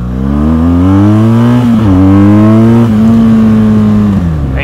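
A 2017 BMW R1200 GS motorcycle accelerates hard, its engine note loud and close, climbing steadily in pitch with a brief dip at a gear change before pulling on again, with no talking.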